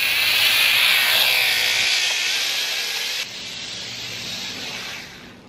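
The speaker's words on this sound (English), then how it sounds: "this is going to be test flight number 1" Small quadcopter drone's motors whir loud and steady on a first test flight after months grounded, some motors running a little tight; the broadband whine dips slightly partway through and continues without talk.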